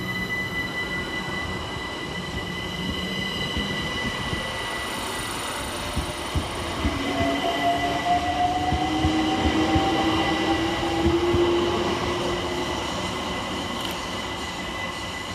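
A London Overground Class 378 electric train, unit 378143, pulls out of Anerley station on a West Croydon to Highbury and Islington service, a steady rolling rumble with rising motor whine and brief wheel squeal as it gathers speed nearby.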